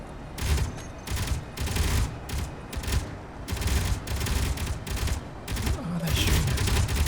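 Automated turret gunfire in the Space Engineers video game, heard as loud sustained bursts of rapid shots that repeat with short gaps over a continuous rumbling din, close and dense with no talking.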